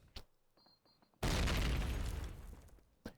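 A loud explosion in the online match shooter Call of Duty: United Offensive erupts suddenly after faint game noise, a broad roaring blast that holds for about a second and a half before slowly fading, with a sharp pop at the end.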